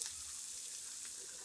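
Onion sautés in a pan for pierogies, giving a faint, steady sizzle with a soft hiss that carries through the short moment with no talking.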